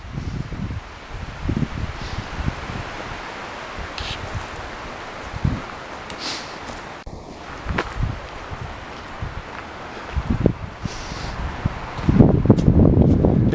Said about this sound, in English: but the wind just started to pick up